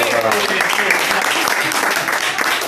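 An Italian show audience bursts into loud, dense applause that fills the whole moment, with voices talking over the clapping.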